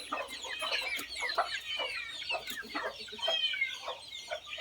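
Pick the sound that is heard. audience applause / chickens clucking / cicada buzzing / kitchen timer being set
chickens clucking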